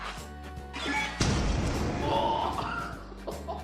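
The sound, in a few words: massive explosion in a video game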